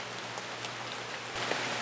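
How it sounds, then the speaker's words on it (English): Steady rain pours outside a rock shelter at night, a dense continuous hiss with faint drips and a low background rumble, no voices. "this rain looks like it's set in for the rest of the night."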